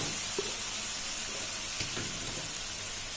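Onion gravy hits a hot pan for a bitter gourd (dondakaya) onion curry, giving a steady broadband frying sizzle with a few soft clinks and knocks, fairly quiet and without any talk.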